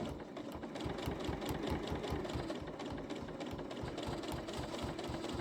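Quilt binding feeds through a sewing machine fitted with a blind hem foot, and its rapid, evenly pulsing stitching runs continuously up close with no voices.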